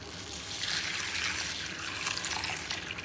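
Hot water poured onto roasted karamani beans to soak, a continuous close gushing splash with steady volume for about three seconds, with no talking.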